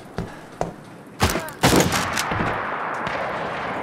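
Gunshots in This War of Mine: a few sharp separate shots, two lighter then two heavier blasts in quick succession, each leaving a short ringing echo, fairly close and loud.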